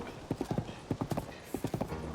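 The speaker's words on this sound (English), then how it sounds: "Right now, I'm gonna enjoy riding a horse." A horse's hooves clip-clop while riding in a Zelda video game, a quick regular run of crisp hoofbeats in two bursts, fairly close and alone.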